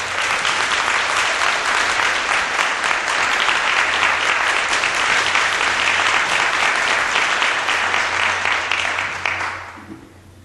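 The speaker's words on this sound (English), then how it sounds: "Give USC a big round of applause." An event audience gives sustained, loud applause for USC, a steady roar of many hands clapping for several seconds before it quickly dies away.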